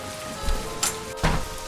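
Rain patters indoors in the Nancy Drew game Legend of the Crystal Skull, a soft steady hiss broken by a few brief louder splashes.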